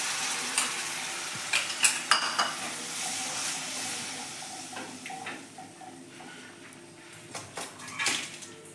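Spiced masala for a wedding-style tindora and potato curry sizzles steadily in a pan, with irregular scraping stirs and light utensil clinks over the soft frying hiss and no talking.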